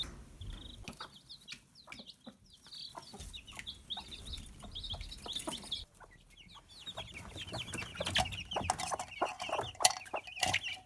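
A broody hen with her newly adopted chicks, giving soft, repeated clucks mixed with bursts of high chick peeping, close and fairly quiet, in irregular clusters.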